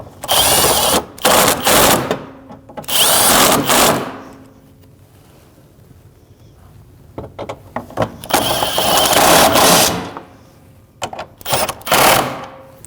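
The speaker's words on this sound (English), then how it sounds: "10 millimeter socket, snug those up." A power tool with a 10 mm socket snugs up bolts on a Toyota 4Runner front bumper cover, whirring in several loud, close bursts separated by pauses with faint workshop clatter.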